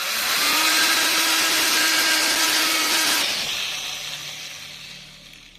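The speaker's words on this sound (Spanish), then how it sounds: "Y ahora vamos a pasarle una lija 320." A loud, steady abrasive rasp of 320-grit sandpaper on a copper sheet bracelet runs for a few seconds, then tapers off into a fading hiss.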